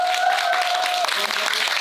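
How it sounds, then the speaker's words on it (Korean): An audience claps for an author at a book talk event, a moderately loud burst of applause mixed with some voices and a brief tonal sound early on. "신도 선생님께 큰 박수 한번 쳐주세요."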